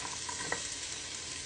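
Chopped onions sauté in a pan for chicken chili, giving a steady, close frying sizzle with a faint crackle that holds at an even level throughout.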